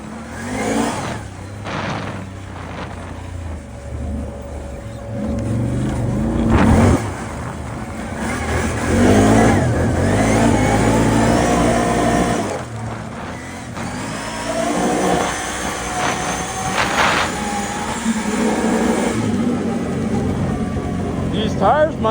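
A G1 800 Outty four-wheeler rides along on worn, nearly treadless and slightly underinflated tires, giving a loud rolling tire roar over a rising and falling engine, with people talking over it.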